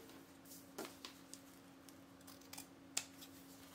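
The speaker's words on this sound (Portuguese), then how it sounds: "eu vou cortar essa cruz aqui que eu fiz" Scissors snipping a cross shape out of fabric while sewing a baby's wipes and diaper pouch: a few faint, sparse clicks and snips, close by in a quiet room.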